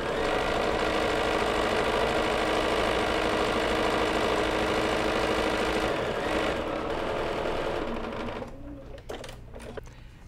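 A sewing machine runs steadily while stitching a foundation paper-pieced quilt block, a close, continuous mechanical whir for about eight seconds before slowing and stopping, followed by a few light handling clicks.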